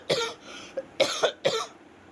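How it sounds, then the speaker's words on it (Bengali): A person with a persistent cough lasting a month after a fever coughs several times in quick, harsh, close bursts, with short pauses between them. "এইভাবে কাশি কনস্ট্যান্ট চলছে আজ 1 মাস ধরে।"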